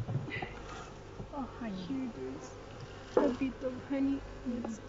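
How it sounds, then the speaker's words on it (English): Honey bees in an open hive being inspected, buzzing softly and continuously nearby while people talk over them. "You can look here and you will see here there are many bees."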